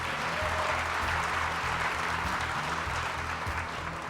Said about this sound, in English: Let's have another big round of applause for all of the digital cinematography grads